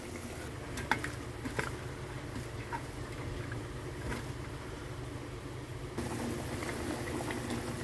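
A pot of dry fish curry boils on the stove, a steady low bubbling and simmering with a few soft clinks and stirs, with no talking.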